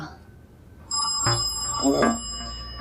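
A telephone ringing with a sustained electronic tone, close and moderately loud, while a voice speaks over it.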